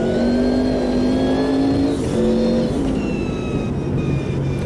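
Porsche RSR V8 race car engine in the Automobilista 2 racing game at Monza, a loud, throaty, continuous drone close by, with pitch rising and falling as it revs and shifts gears.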